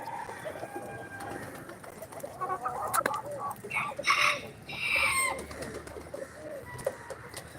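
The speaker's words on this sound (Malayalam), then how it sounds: "പ്രാവ് ഫുഡല്ല തിന്നുന്ന എൻ്റെ കൈ തിന്നുന്നത്" Pigeons coo and flutter close by, soft burbling calls repeating with a few sharper wing and scuffling sounds mixed in.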